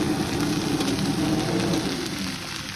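Fresh mint leaves fry with urad dal in a pan for a tamarind and sesame chutney, giving a steady, dense close-up sizzle that stays even throughout.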